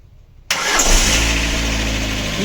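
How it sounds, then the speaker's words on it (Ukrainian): A Lada Granta engine, started for the first time after a cylinder head repair, cranks briefly and catches, then settles into a steady, loud idle with a low rumble and no talking. "При вас робимо перший пуск. Що, давайте пробувати запускати."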